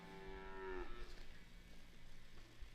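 A cow that has just calved on a farm gives one clear, fairly close moo lasting under a second, followed by quiet rustling and low background noise.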